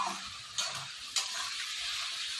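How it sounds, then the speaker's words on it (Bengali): Previously fried potatoes go into a hot pan for a vegetarian curry, sending up a steady hiss of sizzling oil marked by two sharp scraping stirs, close and moderately loud. "এবার ভেজে রাখা আলুগুলো দিয়ে দিলাম।"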